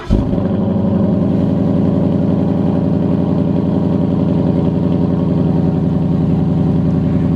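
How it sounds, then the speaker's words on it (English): A 2015 Ford Mustang GT V8 cranks and fires with a sharp burst, then settles into a loud, steady, throbbing idle that runs without pause, close to the car and with no talking. "I know you wanted me to start this car"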